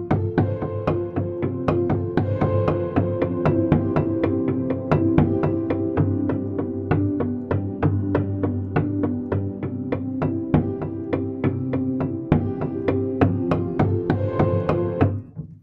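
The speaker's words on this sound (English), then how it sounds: "just key noises" Piano key mechanism noises from the UVI Augmented Piano sample library, a steady stream of dense rhythmic knocks and clicks with ringing tonal hum beneath, continuous and fairly loud throughout.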